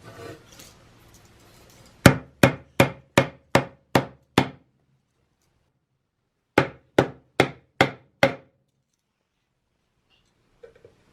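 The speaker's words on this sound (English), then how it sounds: "we hammer different nails" Hammer striking nails into a wooden picture frame at a kids' craft workshop: two runs of about seven sharp, evenly spaced blows, loud and close, with faint rustling before and silence between.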